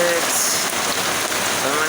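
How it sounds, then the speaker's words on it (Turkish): Heavy rain pours steadily in a dense, loud hiss of drops drumming on a surface, with a faint voice underneath. "O kadar şiddetli yağıyor ki be"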